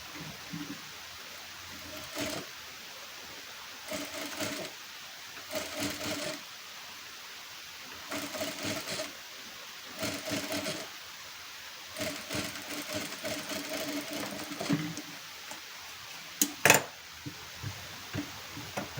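A sewing machine stitches the katori pieces of a blouse together in repeated bursts of rapid mechanical whirring, separated by short pauses, close by and with no talking.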